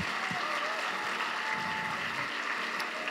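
Guests at a formal fashion dinner giving steady, moderately distant applause, a continuous even patter of many hands with a faint murmur underneath.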